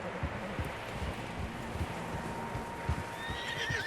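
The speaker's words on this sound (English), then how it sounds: "Horses, quite a few of them." Several horses move through Red Dead Redemption 2, with hooves thudding in an uneven clip-clop and a whinny rising near the end, over soft wind.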